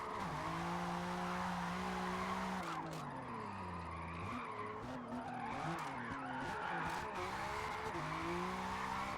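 Tires screech in long sustained squeals as a Toyota MR2 drifts in a racing video game. The engine note rises and falls through the slides, with brief quieter gaps between skids.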